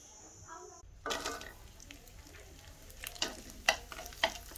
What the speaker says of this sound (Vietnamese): Này chiên cho giòn luôn bạn ơi.